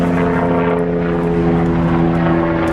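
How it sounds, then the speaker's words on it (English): Several helicopters fly overhead, a loud, steady rotor and engine drone that holds without a break, with no voices over it. "There's many helicopters."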